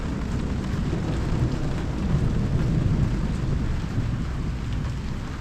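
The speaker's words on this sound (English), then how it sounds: "Massive thunder." Heavy rain pours steadily while a deep, rolling rumble of thunder swells and fades through the middle of the downpour, with no voices present.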